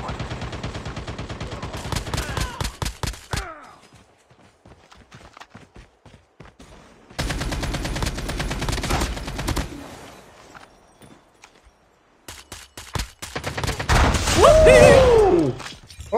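Bursts of AS Val sniper fire in Call of Duty Mobile battle royale, three loud clusters of rapid shots separated by quieter gaps, with a whistling swoop near the end.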